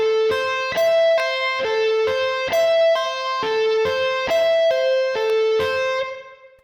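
Slow, connected sweep-picking pattern on an electric guitar with a bright, slightly driven tone, a steady cascade of distinct plucked notes rising and falling in even rhythm, loud and alone, the last note ringing out to fade.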